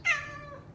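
A single short cat meow, close and clear, rising then fading quickly.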